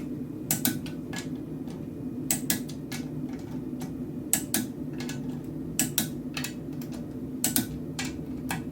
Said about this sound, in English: You hear that little click that lets me know that it is secure and tight.